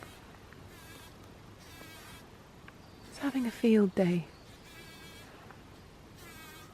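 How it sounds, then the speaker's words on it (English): A bee buzzes close by among Japanese anemones in a summer garden, a steady high insect drone running throughout, while a person talks briefly partway through. "Can you hear this bee?"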